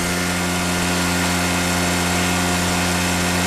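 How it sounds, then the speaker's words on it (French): Steady engine drone from a 1974 Cady M3 under hard acceleration, a dense continuous rumble with strong low harmonics and constant loudness throughout, no voices. "On sent tout de suite une accélération phénoménale."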